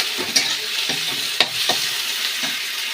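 Slit green chillies and bay leaf fry in a kadai while being stirred, a soft sizzle broken by repeated scraping strokes of a spatula, close and without talk.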